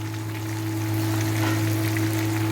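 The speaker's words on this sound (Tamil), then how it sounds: "நல்லா எண்ணெயை காய வச்சுட்டு தான் நான் போட்டு பொரிச்சிக்கிட்டு இருக்கேன்" Steady, crackling sizzle of large pomfret fish frying in hot oil, close up, with a constant low hum underneath and no talking.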